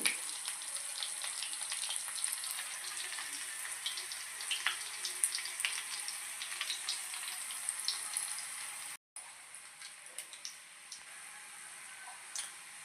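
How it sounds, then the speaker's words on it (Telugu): Ajwain (carom) seeds frying in hot oil in a pan, a steady close crackle of fine sizzling with small sharp pops, briefly cutting out before the hiss resumes slightly quieter. "ఓమిటాలు వేసుకుని ఒక రెండు నిమిషాలు ఎరగనివ్వాలి"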